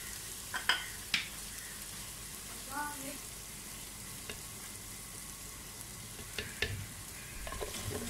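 Masala frying in oil with red chilli before mutton goes in, a soft sizzle with a few sharp clinks of a spoon against the pot near the start and end, no voices.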